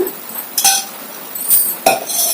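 Ghee spooned into a pan on a stovetop: a few sharp metallic clinks and taps of spoon against pan, spaced apart, close and fairly loud in an otherwise quiet room.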